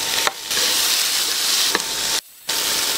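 Tomatoes dropped into a hot pan of sizzling onion and garlic, a loud, close, continuous hissing sizzle with brief crackles and two short dips into near silence.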